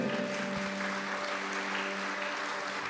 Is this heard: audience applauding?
yes